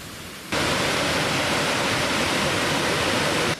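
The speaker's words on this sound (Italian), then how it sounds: "L'ultimo giorno abbiamo visitato le cascate del Vallesinella." Steady, full rushing roar of the Vallesinella waterfalls, loud and continuous after a quieter opening, with no voices.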